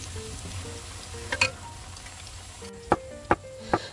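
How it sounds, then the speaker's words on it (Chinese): Taro pieces bubble quietly in hot oil for deep-frying, a soft steady sizzle punctuated by a few sharp utensil clinks and taps near the end, close by with no talking. "芋头要炸到它的外皮有一点点酥"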